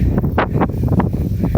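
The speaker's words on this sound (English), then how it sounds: "Hopefully that wind isn't too bad and bugging you guys." Wind buffets a microphone outdoors on a hot, breezy day, producing loud gusty low rumbling bursts that rise and fall irregularly over a short stretch, with no voices.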